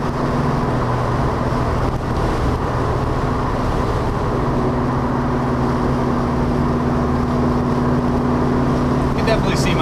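Steady V8 exhaust drone from a 1973 Plymouth Cuda with a 340 cubic inch engine while driving, a constant rumbling note heard from inside the car with road noise.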